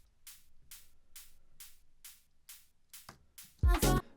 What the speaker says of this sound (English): it's just literally a white noise sort of hi-hat layer.